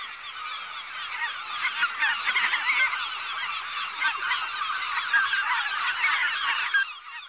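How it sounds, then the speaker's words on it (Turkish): Seagulls call over an island at daybreak, a dense, continuous chorus of overlapping squawks and cries that persists throughout at moderate loudness. "martı sesleriyle uyandı"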